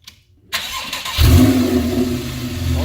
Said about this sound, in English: This one has a bypass from Sharkwerks on the muffler side, so it sounds really throaty, very nice sound. Fire it up,